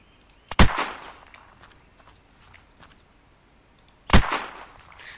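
Two loud, sharp gunshots in the video game Unturned, spaced a few seconds apart, each with a short echoing tail over quiet background.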